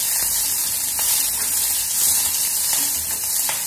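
Thuthuvalai leaves sautéing in a pan give a steady, close hiss of frying with faint stirring scrapes running throughout, no voices over it.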